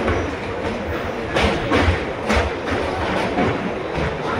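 A moving passenger train out of Bardhaman, a loud, steady rumble with faint rhythmic clatter of the wheels, heard from on board with no clear talk.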